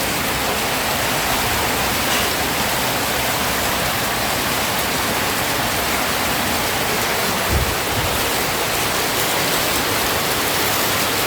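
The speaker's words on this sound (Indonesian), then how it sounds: "Ya, ini kondisinya hujan ini." Rain falling steadily around a red Mitsubishi Canter truck chassis, a dense even hiss with no voices.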